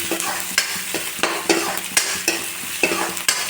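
Onions frying for a broiler chicken curry, stirred in a pan: a steady close sizzle broken by regular scraping strokes of the spoon, roughly one every half second.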